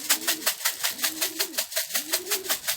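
Young racing pigeons coo in rolling, repeated calls close by, layered over a rapid rhythmic fluttering or tapping sound.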